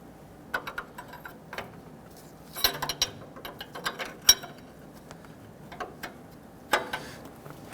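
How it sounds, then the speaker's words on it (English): A 22 mm wrench tightens an upstream O2 sensor on a 2006-2010 Hummer H3 3.7L, giving sparse close ratchet-like clicks and metallic ticks at uneven intervals over a quiet background. "I'm going to go ahead and use a 22 millimeter wrench."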